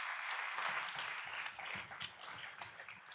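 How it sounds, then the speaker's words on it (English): An audience at a city council meeting applauds children in costume, a sustained crowd of clapping hands, moderately loud and even, filling the room without speech. "give them a round of applause"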